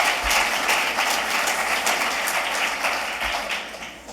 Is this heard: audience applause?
yes